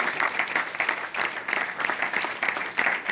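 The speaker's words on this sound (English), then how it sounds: "let's give them a massive round of applause" Enthusiastic applause for presenters at a mindset training session, fairly close and loud, with uneven bursts of clapping that swell and dip over a few seconds.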